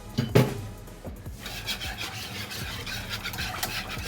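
Whisk scraping and stirring an eggless lemon filling in a pot, steady rhythmic rubbing strokes up close, loudest at the start, with no talking.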